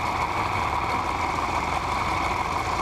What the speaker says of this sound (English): I'll always have one of these walk behind weed eaters. There we go. Now we're at full throttle.